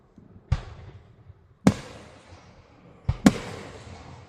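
Blue fireworks exploding in the night sky, three sharp booming bursts spaced apart, the last a quick double, each trailing off in a fading rumble and crackle.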